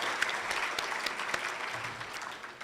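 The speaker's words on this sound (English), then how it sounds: "So I think we should give them a round of applause." Guests at a Rotary luncheon give a round of applause, a moderate, fairly distant patter of clapping with a few sharper claps standing out, fading slightly toward the end.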